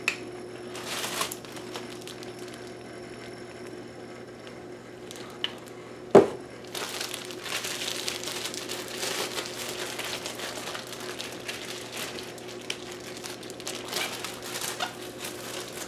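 A plastic sous vide bag with olive oil is handled in a kitchen, giving scattered soft crinkles and rustles with one sharp knock partway through, all faint and without talk.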